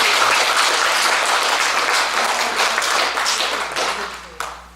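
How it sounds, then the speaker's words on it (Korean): Audience at a Korean Buddhist talk on hwadu meditation applauds steadily, a dense wash of many hands clapping that thins and fades toward the end, with one last stray clap. "박수 한번 쳐줍시다."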